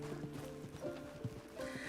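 Horse sounds from the video game Red Dead Redemption 2, with clip-clop hooves and a brief whinny-like tone over game ambience, near and moderately loud.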